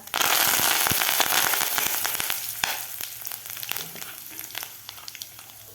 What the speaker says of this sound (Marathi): यामध्ये घालायचे आपल्याला जिरे हळद हिंग कढीपत्ता